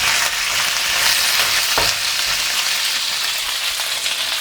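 Chicken wings sizzle loudly in a pan with ginger and star anise while being stirred, a steady bright frying hiss broken by one sharp clink of utensil on pan.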